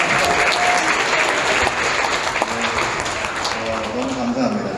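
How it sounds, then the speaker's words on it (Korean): A church congregation applauds to welcome first-time visitors at a Sunday service, a dense, steady wash of clapping lasting several seconds with a few voices murmuring underneath. "박수 한번 던져야 되지 않겠어요?"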